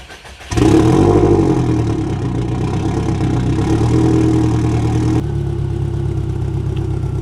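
After a brief quiet moment, a Subaru Forester STI with an EJ207 engine and newly installed aftermarket Grimmspeed headers cranks and fires up, then settles into a loud, steady, rumbling idle that continues to the end.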